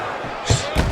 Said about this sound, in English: punch after a fine defensive effort by Hands of Stone